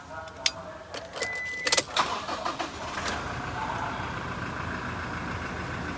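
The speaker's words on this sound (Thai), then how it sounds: "เดี๋ยวฟังลองสตาร์ทเครื่องให้ดู" Toyota Revo 2.4E TRD Sportivo pickup from 2017 starting up: a jangle of keys and clicks, a short cranking burst, then the engine settling into a steady, fairly quiet idle.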